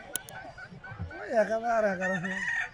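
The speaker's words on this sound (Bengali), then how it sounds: "এটি কি হাঁস ভাই দেশি হাঁস" Loud nasal honking calls from native domestic ducks at a market, rising and wavering over a couple of seconds, with faint market bustle behind.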